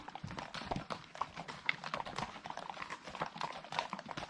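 A line of horses on a trekking trail in Wales clip-clops steadily, many overlapping hoofbeats at a moderate distance, fairly quiet and irregular in rhythm.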